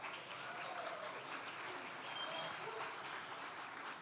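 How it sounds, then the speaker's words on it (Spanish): Steady applause from an audience welcoming a guest at a book launch event, a dense continuous patter of clapping that holds evenly for the whole stretch with no voices rising above it. "lo vamos a recibir con un fuerte aplauso"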